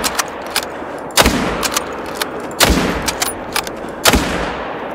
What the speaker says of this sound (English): I absolutely love the sound that the 30-06 makes.